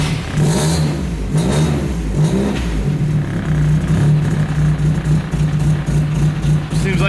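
Car engine revving hard in a second-gear pull held against the brake to build turbo boost, a loud steady mid-pitched roar with a sustained droning tone throughout and no talk.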